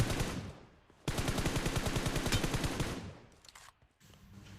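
Rapid automatic gunfire in the BGMI battle royale game, a dense burst of sharp repeated shots lasting about two seconds, preceded and followed by quieter game sounds.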